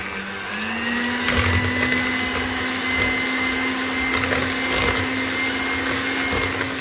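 An electric mixer whirring steadily as it beats eggs with added vanilla for an apple-cinnamon cake batter. The motor hum stays constant and close, with faint rattling clicks against the bowl.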